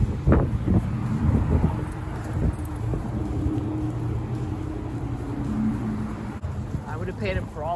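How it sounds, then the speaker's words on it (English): Cars and a big truck pass on a street, a loud rumbling traffic wash with wind buffeting the microphone and a person talking over it. "I would have paid him for all those car sounds already."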